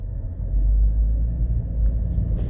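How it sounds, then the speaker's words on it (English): A FedEx truck engine rumbles nearby on the road, a heavy, continuous low-pitched drone that stays steady and loud throughout with no voices over it. "There's a FedEx truck."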